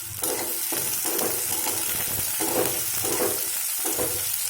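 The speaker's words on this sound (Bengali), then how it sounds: "এটাকে 1 মিনিট মতো একটু ভালো করে ভেজে নিতে হবে" Chopped carrots and beans frying in a pan, with a dense, steady hiss of oil and rhythmic stirring scrapes pulsing through it, close and constant, no speech.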